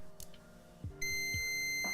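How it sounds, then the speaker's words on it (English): An electronic device gives a sustained high-pitched beep that starts partway through and holds steadily, after a few soft clicks and handling sounds. "Now it beeps"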